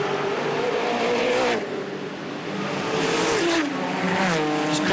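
Touring Car Masters race cars roar around the Sydney circuit, engines revving and shifting pitch as they pass close by in a loud, dense mix, with faint tire noise.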